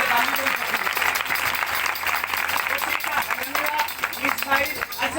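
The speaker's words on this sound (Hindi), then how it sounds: "तालियां ठोक के बजाओ यार।" A church congregation clapping along during a Hindi sermon, a dense steady patter of many hands filling the space, with a voice audible over the crowd.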